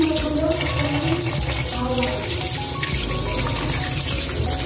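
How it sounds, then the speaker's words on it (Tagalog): Pork intestines being washed piece by piece under a running kitchen tap, a steady splashing water stream with shifting gurgles as the pieces are handled, continuous and fairly close. "Yan, hugasan natin sa isa-isa."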